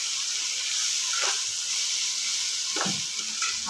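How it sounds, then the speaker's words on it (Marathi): Coarsely crushed peanuts stirred through dry methi bhaji with moong dal in a hot pan: a constant loud sizzle and hiss, with two short scraping strokes of a spatula. "आता आपण हा मिक्स करून घेऊया भाजीमध्ये।"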